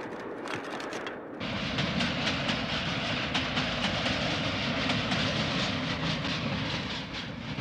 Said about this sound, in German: Opas Berliner U-Bahn, schon 1902 gebaut, fährt nur wenig langsamer als die von heute.